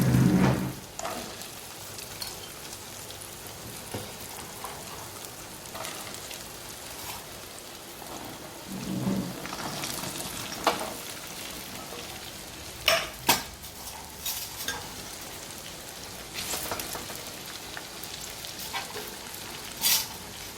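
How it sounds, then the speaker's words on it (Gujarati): Okra tossed into hot oil with half-cooked potatoes, garlic, fenugreek and green chillies, giving a steady soft frying hiss with scattered crackles and occasional stirring clatter, close by and without talk. "હવે અંદર નાખી દઈશું આપણે ભીંડા."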